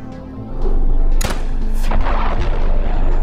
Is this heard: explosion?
yes